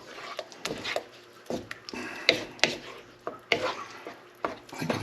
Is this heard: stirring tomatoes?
yes